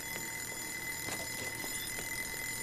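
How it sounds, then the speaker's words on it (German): A ringing alarm clock in the kitchen of the cooking game Joe's Diner, repeating in steady short bursts over a constant background hum of game ambience, with no talk. "Wecker, ja, aber was für ein Wecker?"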